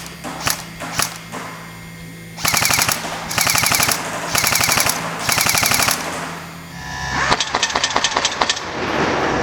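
A G&G Top Tech T4-18 airsoft rifle in H&K 416 form fires several loud bursts with blowback, each a rapid mechanical rattle of clacking shots separated by short pauses, with a few single shots before them and a faster buzzing burst at the end.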